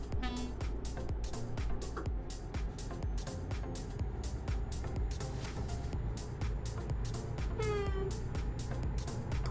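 A cat meows repeatedly inside a truck cab in Euro Truck Simulator 2, several distinct calls over a steady engine drone and rhythmic clicking.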